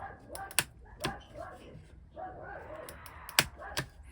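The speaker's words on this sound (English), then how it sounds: "The dog reacts as you would expect any little dog to react" A little dog barking and yipping in short bursts at moderate distance while children tease it, with sharp snapping clicks scattered between the barks.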